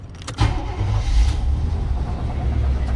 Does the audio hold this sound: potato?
no